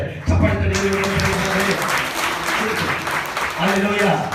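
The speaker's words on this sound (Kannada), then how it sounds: "ಚಪ್ಪಾಳೆ" Church congregation applauds during a pastor's sermon, a steady, dense wash of clapping filling the whole stretch, with voices and a sustained tone running underneath.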